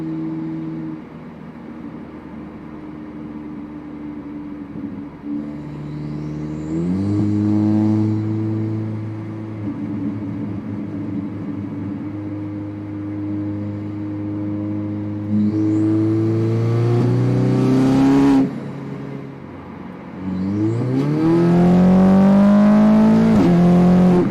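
A car with a tuned, raised redline accelerates hard in fourth gear, the engine note climbing steadily through long pulls, dropping at shifts or kickdowns and rising again, loud and close from inside the cabin.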